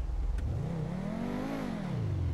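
A modified Honda Civic VTi engine in a driving game revs and accelerates steadily, its pitch climbing then easing back down, loud and continuous with no talk over it.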